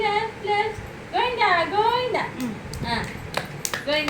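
A small child claps their hands to a devotional chant, giving a few sharp claps near the end while an adult sings and talks over it in a room.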